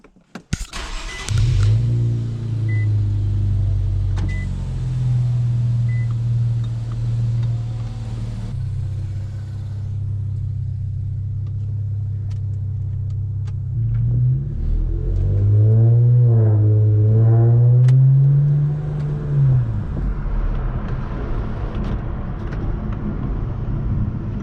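Infiniti Q50/Q60 with the VR30DTT twin-turbo V6 and a Megan Racing Y-pipe starts up, idles with a deep drone, then revs through rising and falling acceleration pulls, close and loud with no talking.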